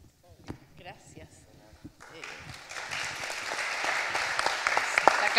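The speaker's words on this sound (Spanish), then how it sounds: "Sacaste hasta aplauso." Audience clapping at a city conference talk, beginning after a few seconds of speech and building into steady, dense applause that grows louder toward the end.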